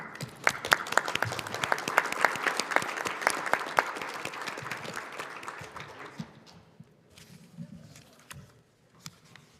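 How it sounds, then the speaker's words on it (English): Applause fills the room at an OSCE Parliamentary Assembly autumn Standing Committee meeting, a dense crowd of clapping hands that swells loudly for several seconds, then thins to scattered claps. "I think they all deserve a round of applause."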